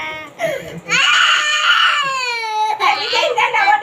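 A young child cries loudly nearby in long, wailing bursts broken by short gasps and whimpers.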